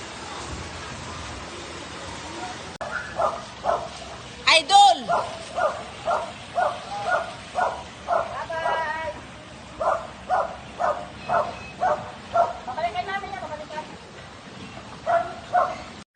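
Terrier puppies bark and yip in a rapid, steady series of sharp, close calls, joined briefly by a whimpering squeal, while a person talks over part of it.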